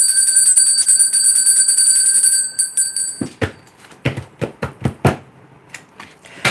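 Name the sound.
bell ringing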